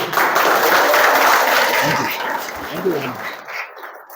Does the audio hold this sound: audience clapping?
yes